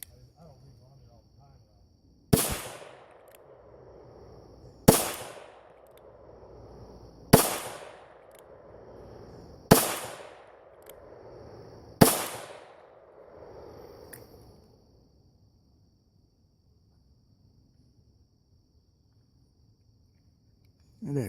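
Five loud .38 Special pistol shots, fired with a light 2.7-grain load of ClayDot shotshell powder behind a 161-grain Lee cast bullet, crack at steady intervals of about two and a half seconds, each leaving a short ringing decay before quiet.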